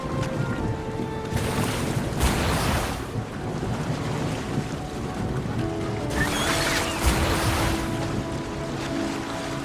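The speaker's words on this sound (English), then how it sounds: "Now all we need to do is sail full speed ahead toward our destination." A boat sailing full speed across the open sea in the Wuthering Waves video game: continuous rushing water and wind noise with waves swelling, loud and steady, no talk.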